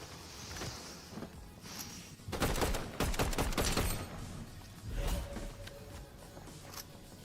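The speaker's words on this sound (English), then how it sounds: "this is a slow shotgun if I've ever seen a slow shotgun" Slow-firing shotgun in a video game, a few heavy rattling blasts spaced about a second apart among game ambience and movement noise, loud and close.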